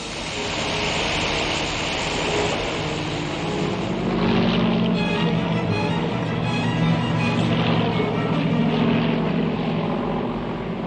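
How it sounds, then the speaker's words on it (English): World War I aircraft drone over the sea, a steady loud propeller engine hum that holds for the full length and swells slightly midway, with no voices. "Aircraft searched the seas ready to bomb and machine gun."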